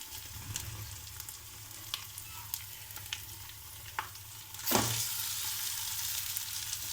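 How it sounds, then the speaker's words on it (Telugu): Mashed potatoes sizzle in hot oil with tempering spices, and a spoon scrapes and stirs in short strokes. The frying grows louder and brighter near the end as more potato hits the pan, with no talking. "ఈ ఆలు ఇలా స్మాష్ చేసుకొని తాలింపులో వేసేసుకుందాము"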